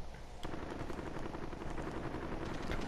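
Sustained bursts of machine-gun fire and scattered shots in a Warzone firefight, loud and dense after a sharp opening crack, with rumbling battle noise that sounds somewhat distant.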